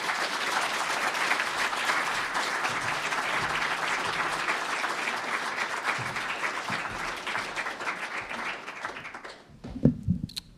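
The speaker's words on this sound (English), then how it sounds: "Please give Janelle a round of applause." An evening audience gives a sustained round of applause for a guest speaker, dense clapping that stays strong for nearly ten seconds before stopping abruptly, followed by a brief voice and handling noise.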